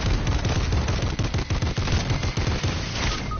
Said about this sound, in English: I just got sniped